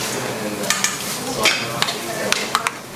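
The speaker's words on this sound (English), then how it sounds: "let's just stir this up a little bit" A utensil stirs pajeon batter, a thin Korean pancake batter like crepe batter, in a bowl: soft swishing with several sharp clinks against the bowl at an uneven rhythm, close by and moderately loud, no talking.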